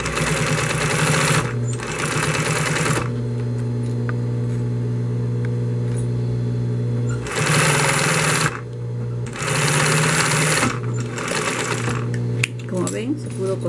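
A sewing machine stitches a zipper onto a man's bag in rapid bursts of mechanical whirring separated by pauses, and a low hum continues in the gaps while a person speaks nearby.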